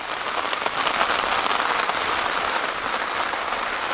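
Steady, dense rain drums on a Hilleberg Nammatj 3GT tent, a close, even hiss of patter with no talking.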